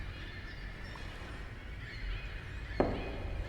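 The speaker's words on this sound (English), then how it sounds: "I hear birds." Birds calling in the video game The Lightkeeper, faint tonal calls over a steady ambient wash, with a brief sharp knock near the end.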